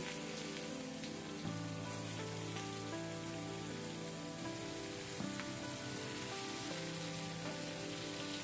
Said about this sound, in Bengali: ঝিঙেটাকে দেওয়ার পর এভাবে ভেজে নিব।